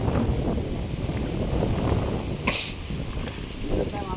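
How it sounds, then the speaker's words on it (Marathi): Steady outdoor wind blowing by the water at a dam in Konkan, a continuous broadband rush with gusty swells and brief bumps from handling, a voice faintly present beneath. "हवा आहे ना रे"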